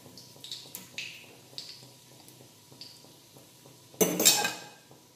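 Light metal clinks of a slotted spoon against a pan as fried beef cutlets are lifted out of hot oil, a series of soft taps ending in a brief louder scrape and clatter, with faint sizzling beneath.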